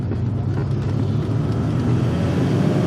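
An automatic Mazda RX7 FD3S rotary engine idles steadily after an idle RPM adjustment, a close, continuous low rumble with a constant drone and no revving.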